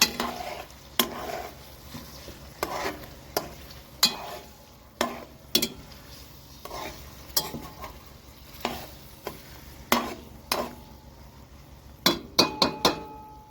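Meat frying in a cauldron (kazan) over a wood-fired stove outdoors for plov, with a steady low sizzle broken by repeated sharp metallic clinks and scrapes of stirring, close and fairly loud, no talk.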